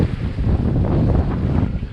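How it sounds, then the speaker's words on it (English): Strong cold northwest wind at sea aboard a sailboat, a loud continuous roar buffeting the microphone with rushing water underneath, no voices. "This wind is forecast to persist through tomorrow morning and then begin to ease off tomorrow afternoon."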